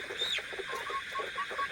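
Sonali super hybrid chickens on a poultry farm, clucking and chirping in a continuous busy background chorus with no talking.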